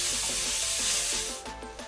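Onions sizzle and fry in a pan with ginger garlic paste, a steady hiss with soft rhythmic stirring scrapes, close and moderately loud, no talking.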